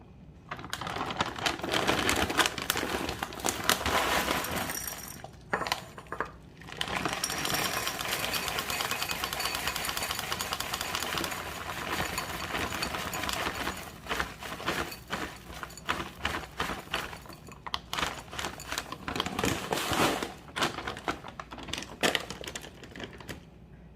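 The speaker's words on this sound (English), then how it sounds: "I will mix it with my fruits and vegetables, and I will blend it" Blender whirring as it purees breakfast cereal with fruits and vegetables into a smoothie, a loud steady grinding roar running in long bursts with short pauses between them.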